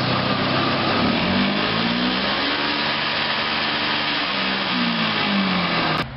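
A 1,000-pound truck-mounted carpet cleaning machine with a Toyota engine runs steadily and loudly, its engine note rising and falling through different speeds over a constant rushing whine, with no talk.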